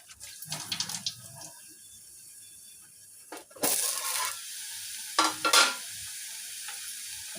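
Ground masala paste is dropped into a pan and sautéed, giving bursts of sizzling with stirring scrapes between quieter stretches, close and without talk.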